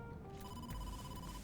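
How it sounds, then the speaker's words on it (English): A phone rings in the video game AI: The Somnium Files, a faint electronic tonal ring with a couple of pulses over a low background. "Phone call, phone call."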